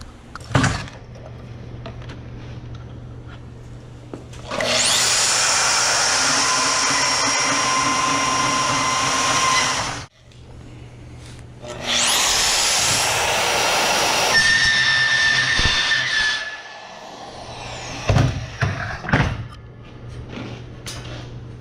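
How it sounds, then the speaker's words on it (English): Angle grinder grinding down metal tubes on a truck rack, two long loud bursts of about five seconds each with a short pause between, then quieter clanks and shop noise. "And right now I'm going to grind these down and then put flat caps on those"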